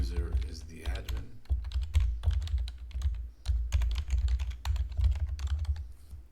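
Computer keyboard keys tapped in quick, uneven bursts with short pauses, close and fairly clear over a low background hum.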